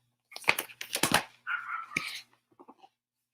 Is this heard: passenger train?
no